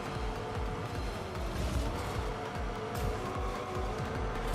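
A race car drifts in the video game Rocket Racing, a steady engine roar with a gritty tire hiss running throughout at moderate level, with no talk over it.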